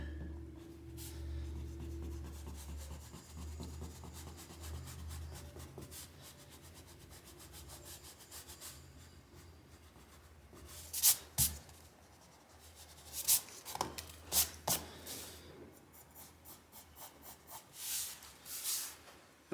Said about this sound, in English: erase a little bit.